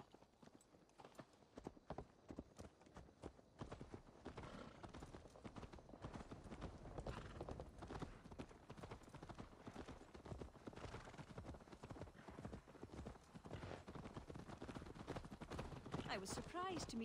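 Horse hooves clip-clop at a steady riding gait in the video game Assassin's Creed Valhalla, loud and continuous throughout, with game character voices talking over them.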